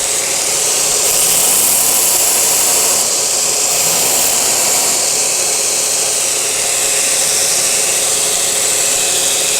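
A grinding wheel shapes the edge of a forged folded rasp axe, making a loud, continuous, steady abrasive whine with no pauses.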